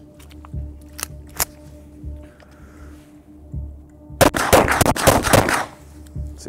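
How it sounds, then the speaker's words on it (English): A Mark III Browning High Power pistol fires after being caked in mud, with a few sharp shots early on and then a dense burst of loud, close gunfire plus mechanical clatter in the final seconds outdoors. "next up we have the Mark III Browning High Power right here"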